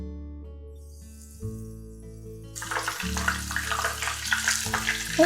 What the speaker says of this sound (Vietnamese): Giờ mình sẽ cho mực vào chiên luôn.